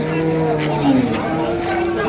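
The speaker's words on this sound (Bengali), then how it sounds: "এদিকে এক জোড়া হাড্ডি গরু আছে" Cattle, including thin bony cows, low and moo amid a busy outdoor cattle market crowd in Chandina, Comilla, with people chattering in the background.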